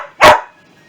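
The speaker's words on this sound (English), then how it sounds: "dog's barking." A single loud, close dog bark rings out in a home kitchen during meal prep, then fades into quiet room tone.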